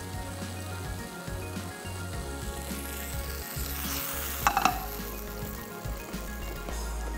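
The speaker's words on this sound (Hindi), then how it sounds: "यहाँ पे जो है हमारे पास ऑयल हो रहा है गरम। रेशमी कबाब को करेंगे फ्राई।" Reshmi kebabs fry in hot oil, giving a moderate continuous hiss and sizzle with a low hum beneath and a brief flurry of sharper crackles about two-thirds of the way through.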